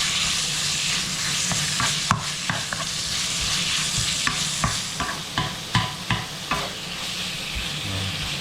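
Pork frying in a pan with salt and pepper, a constant hiss of oil under a series of sharp spatula taps and scrapes that grow more frequent toward the end, heard up close.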